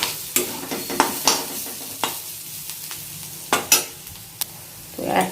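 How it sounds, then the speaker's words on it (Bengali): Gram flour is stirred into chopped onion in a bowl, giving close, repeated wet squishing and scraping strokes at an uneven rhythm, with no talk. "তো বেসনটা দিয়ে একটু ভালো মতো মিশিয়ে নিই পেঁয়াজটার সঙ্গে"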